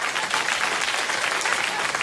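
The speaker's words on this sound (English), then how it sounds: "you quite spontaneously gave me a phony round of applause" Studio audience on a late-night talk show breaks into a steady round of applause, dense continuous clapping that holds at even volume for about two seconds with no voices over it.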